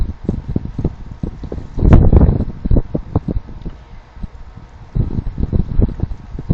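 Gusty wind buffets an outdoor telescope setup and its microphone at night, a low rumbling roar that swells into a louder gust near two seconds and again after five, with no voices.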